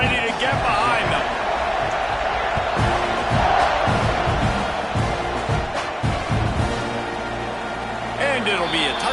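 A football stadium crowd roars at kickoff, a dense continuous wall of cheering and noise that stays loud throughout, with a commentator-like voice faintly mixed in.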